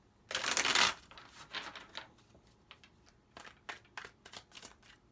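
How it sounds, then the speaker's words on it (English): Tarot cards being shuffled by hand: a dense riffle burst at the start, then a run of sharp, separate card snaps and flicks, close and fairly quiet, with no talking. "Let's give the cards a really good shuffle."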